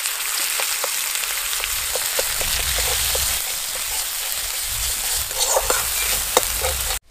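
Dried red chili paste, green chili paste and mustard paste sizzling loudly in hot oil with bay leaf in a pan, with a steady crackling fry and scattered clicks of stirring throughout, cutting off abruptly at the end.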